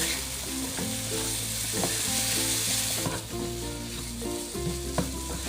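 Minced pork and stink beans (sator) stir-fry in a hot pan with a loud, steady sizzle, punctuated by regular scraping and tapping strokes of the spatula, close and without voices.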